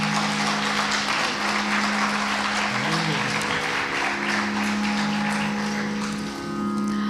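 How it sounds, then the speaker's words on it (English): Audience applause at a Bharatanatyam arangetram dance recital, a steady, full round of clapping from a large crowd lasting several seconds over a low continuous hum, fading slightly near the end. "I think we should all give her a round of applause for."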